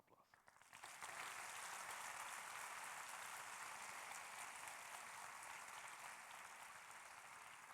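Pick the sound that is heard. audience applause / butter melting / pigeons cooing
audience applause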